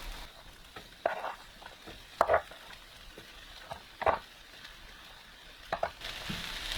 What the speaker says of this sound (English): Now we're going to add the peppers and the mushrooms.